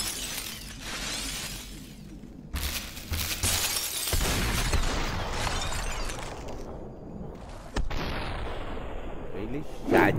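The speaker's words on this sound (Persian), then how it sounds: "خیلی شدید تیر اندازی میکنه" Gunfire and shattering glass in the video game Superhot, bursts of sharp cracks and breaking sounds over several seconds with a voice talking underneath.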